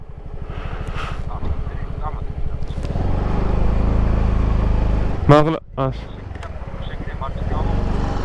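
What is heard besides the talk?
scooter engine while riding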